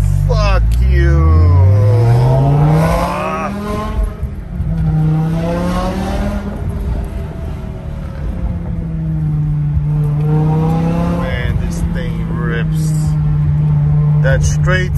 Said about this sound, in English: That straight sound, straight pipe, straight airflow made a huge difference for the car.